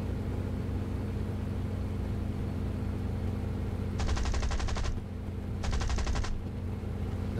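Aircraft machine gun fire in a War Thunder simulator match with French tier 1 planes: two short rapid bursts, about a second and half a second long, cut through a constant engine drone.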